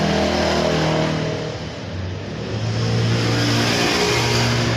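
A motorcycle engine with worn clutch plates revs loud and close under acceleration, holding a strong droning pitch that dips briefly midway before climbing and steadying again.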